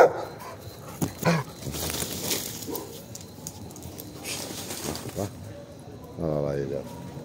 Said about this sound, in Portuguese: Cachorro livre na rua passando. A Zaira já tá pronta pra atacar